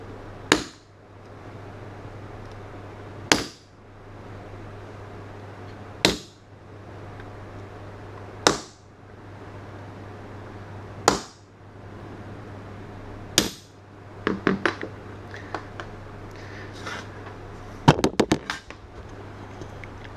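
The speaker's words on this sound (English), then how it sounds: "We just do a light punch, center punch" A center punch is tapped lightly into sheet metal at each corner, several sharp isolated hammer strikes spaced a few seconds apart over a low steady hum, followed by a cluster of quicker, clattering taps.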